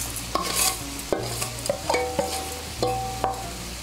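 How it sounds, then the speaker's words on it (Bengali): Fried banana flower and fried rice get stirred into spices in a pan. A spatula scrapes and taps in repeated strokes over a soft sizzle, with no voices. "মশলার সঙ্গে মোচা চালটাকে ভালো করে মিশিয়ে নেব"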